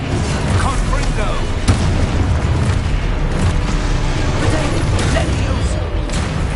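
Dense, continuous explosive rumble from a Confringo blasting spell in the Hogwarts Legacy video game on PS5, loud and sustained with layered booms and crackling bursts throughout.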